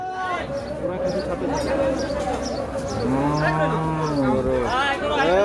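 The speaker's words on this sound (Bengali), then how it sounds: "গরু ঢুকতেছে" Cattle low repeatedly at the Hozrotpur cattle market, several long moos rising over a steady crowd babble, with one deep, drawn-out call near the middle and others overlapping close by amid continuous talking.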